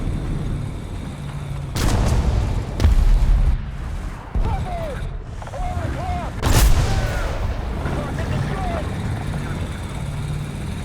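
Cannon fire from an M551 Sheridan light tank in a video game: a few heavy booming shots spaced several seconds apart over engine rumble and battle noise, with someone talking throughout.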